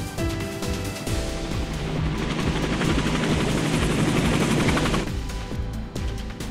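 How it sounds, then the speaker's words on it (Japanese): A VIP transport helicopter in the video game Tokyo Debunker thumps loudly with rapid rotor chop, mixed with bursts of gunfire-like crackle that build and then drop away. "うちの要人輸送ヘリだ。"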